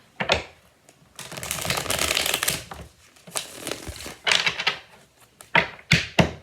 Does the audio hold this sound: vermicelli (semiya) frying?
no